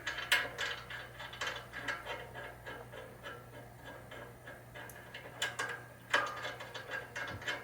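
Bolts being tightened on a Harbor Freight lift table modded for pinball, giving a run of close ratcheting clicks in irregular bursts, with a few sharper metallic knocks and no talk.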